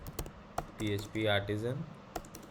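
Sharp computer keyboard clicks come in short bursts as a Laravel command is typed, with someone speaking in the middle of the clip.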